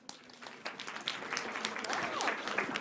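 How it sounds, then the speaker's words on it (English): Audience applause at a lecture on accounting and value analysis, a steady crowd clapping that builds over a few seconds, with a voice speaking over it partway through. "Another round of applause, please."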